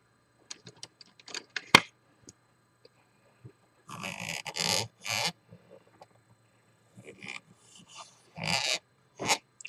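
Scratchy scraping of a pencil tracing a circle on rough textured paper comes in short irregular strokes, close and fairly quiet, with gaps of silence between.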